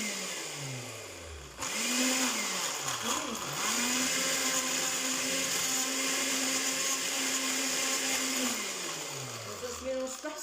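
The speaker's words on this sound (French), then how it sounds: "c'est un petit peu trop dense, hein, pour le mixeur, pour le blender" Blender mixing a thick, dense lassi: the motor whines down and restarts, then holds a steady loud strained whir with grinding and rattling before spinning down, quite close.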